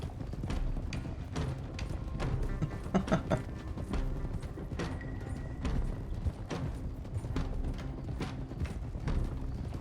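Horse hooves clip-clop steadily at a walking pace in the video game Red Dead Redemption 2, close and moderately loud over a dense bed of game ambience.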